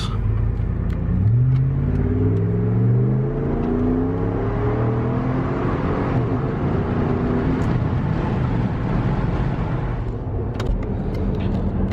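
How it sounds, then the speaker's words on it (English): A street truck fitted with an off-brand Flowmaster muffler in place of the stock one revs hard, its deep exhaust rising and falling in repeated climbing sweeps, loud and close, before settling into a lower rumble. "I'm digging the exhaust. The setup was just a stock muffler replacement with a off-brand Flowmaster"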